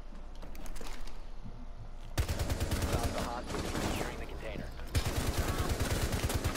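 Fully automatic weapon fire in Rainbow Six Siege, rapid loud bursts in two long strings separated by a short pause, close and dominant.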